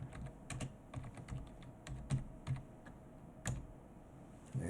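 Steady clicking of keys on a computer keyboard, typing a Go version check on a Raspberry Pi, irregular taps in small clusters, quiet and close, with no talking.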